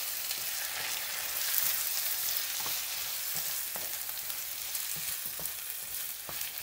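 Potato slices frying in a pan with a splash of white wine for a shepherd-style Spanish tortilla, a steady close sizzle with soft scraping stirs and occasional taps of a utensil against the pan.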